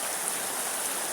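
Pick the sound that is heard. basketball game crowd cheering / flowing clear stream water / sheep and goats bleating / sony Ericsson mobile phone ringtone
flowing clear stream water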